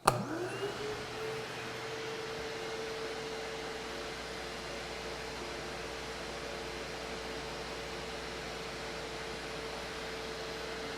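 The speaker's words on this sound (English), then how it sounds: "So let's turn on our Shop-Vac." A Shop-Vac 12 gallon 5.5 HP Whisper wet/dry vacuum starts with a brief surge. It settles into a steady, moderate airflow hum with a faint motor whine, continuous and unchanging, with no talking.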